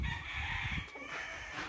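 A gallino rooster crows in a single sustained call, close and fairly loud, with low rustling and farmyard noise underneath.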